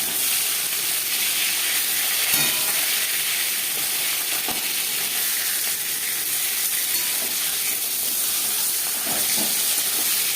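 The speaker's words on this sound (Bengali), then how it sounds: "মাছের মাথা ভাজা হয়ে গেছে।" Rohu fish head frying in hot oil, a steady close sizzle and hiss that holds without a break, with a few faint clinks over it and no talking.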